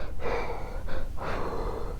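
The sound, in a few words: imitated heavy panting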